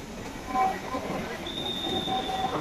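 A Dhaka metro train pulls away from Bangladesh Secretariat station toward Motijheel with a steady rumble and a high thin wheel squeal, voices murmuring faintly in the background.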